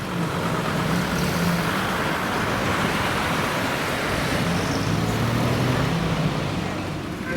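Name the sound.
cars driving on highway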